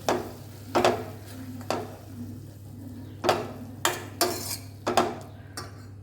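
A spoon scrapes and knocks against a pan while masala dosa filling with turmeric is stirred, about a dozen sharp metallic clinks at irregular intervals over a low steady hum.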